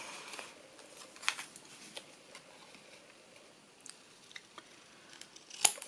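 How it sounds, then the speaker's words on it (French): Scissors cut paper at close range for a scrapbook layout, with a few soft snips and light ticks against a quiet background and a sharper snip near the end. "Je vais découper juste ce qu'il me faut."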